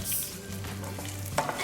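Urad dal and curry leaves fry in hot oil while being stirred for a semolina-ball snack, a close, soft sizzle with a low steady hum and a few sharp spatters and scrapes near the end.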